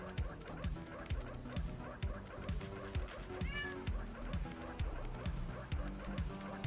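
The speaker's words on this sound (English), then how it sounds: "And then a cat mewing." A cat in the Party Hard 2 video game mews over steady thumping dance music and a dog's bark, the meow short and rising near the middle, with no speech.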